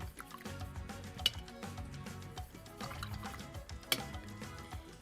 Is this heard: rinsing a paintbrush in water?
yes